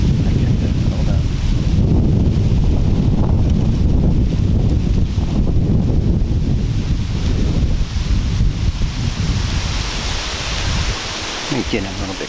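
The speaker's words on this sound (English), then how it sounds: "don't got the rain, but the wind is humming." Steady outdoor wind roars and buffets the microphone throughout while hunting in Michigan, a broadband rush that eases slightly near the end.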